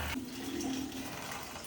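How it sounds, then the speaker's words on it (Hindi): Water runs steadily from a repaired RO water filter, a soft, continuous trickling and hissing flow that starts after a brief louder burst and stays fairly quiet and close. "अभी पानी चेक कर रहे हैं, इसमें पानी तो प्रॉपर आ रहा है"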